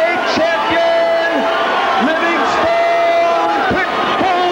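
A large boxing crowd at the War Memorial Auditorium in Buffalo, New York roars and yells in a dense, sustained wall of voices after a technical knockout, with a commentator talking over it.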